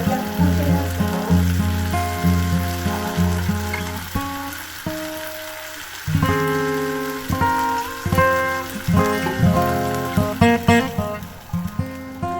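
Banana blossom simmers and sizzles in a pan after broth is poured in, with a steady crackling hiss broken by bubbling pops and clinks and a soft background hum.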